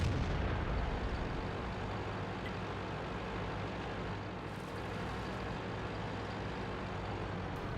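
Heavy rumbling battle noise from tank combat in World of Tanks, a dense continuous roar of engines and distant gunfire booms filling the scene without clear pauses and with no talking.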